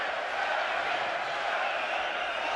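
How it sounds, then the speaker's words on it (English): A boxing arena crowd roars and chants for Canadian boxer David Lemieux in the seventh round of his fight against Billy Joe Saunders, a dense, steady wall of voices with no breaks. "The crowd chanting for their Canadian hero."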